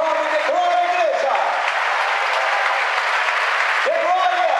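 Church congregation clapping hands in praise, a dense steady wash of applause filling the room throughout, with brief sung or spoken voices rising over it near the start and end.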